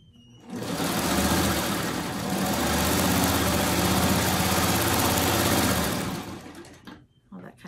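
A sewing machine stitches a quilt block in one steady, close, loud run of about five seconds, then winds down and stops.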